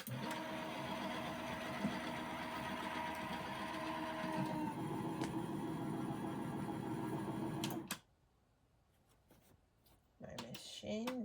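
A malfunctioning sewing machine runs roughly for about eight seconds, a dense close whirring and rattling that shifts partway through, then cuts out to near silence before brief handling noise.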